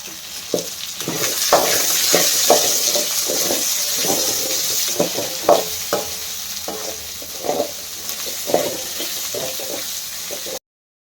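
Onions frying in a pan for bitter gourd palya, a steady close sizzle with repeated scraping stirs of a spatula throughout, then an abrupt cut to silence.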